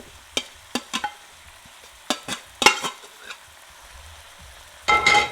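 Seasoned chana (chickpeas) frying in a pot for curry channa, with several separate scraping, stirring clatters and short bursts of sizzle, close and moderately loud, ending in a louder sizzling burst.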